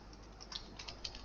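Code is typed on a computer keyboard as a quiet run of light, irregular key clicks at close range, with no talking.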